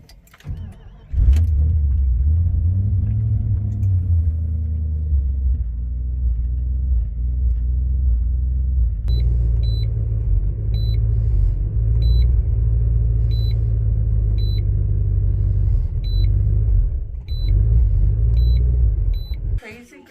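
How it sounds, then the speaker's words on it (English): A car engine bogs down while driving as its fuel pump keeps cutting out mid-drive, a steady low rumble of road and engine with a faint repeating chime throughout and a surge near the end. "This pump, it keeps shutting off like mid-drive. It's bogging down really bad."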